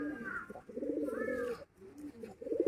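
Pigeons coo close by in soft, throaty rolling bursts, several overlapping calls with brief pauses, no talking.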